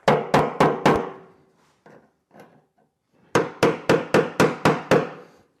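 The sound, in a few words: body man's hammer striking car metal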